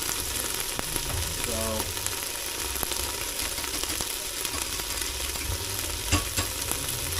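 Beef stew cooking on high in an electric smart lid pan, a dense steady frying hiss with light stirring scrapes, and a brief word spoken at the start.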